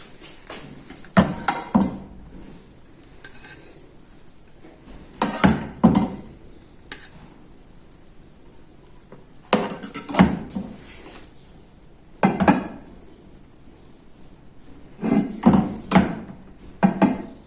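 Zarda sweet rice is scooped from the pot onto a dish in several separate bursts of scraping and clinking spoon on metal, with quiet pauses between.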